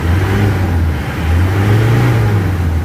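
Isuzu Sportivo engine with throttle delay, vibration, low power and black smoke, held around 3000 rpm nearby, a loud steady revving hum that dips slightly and climbs again.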